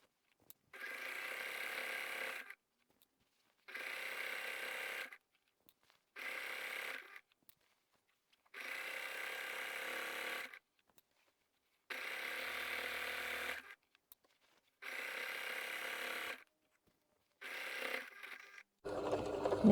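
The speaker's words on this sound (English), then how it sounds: "I am going to do some reinforcing stitches here, and then we are done sewing around the top." A sewing machine stitches around the top of a fabric laundry bag in seven or eight bursts of steady whirring, each a second or two long, separated by quiet pauses.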